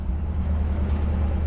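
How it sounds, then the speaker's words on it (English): A 1974 Ford Bronco's engine runs at a steady idle, a low, continuous rumble heard close and alone for a moment. "I love that engine."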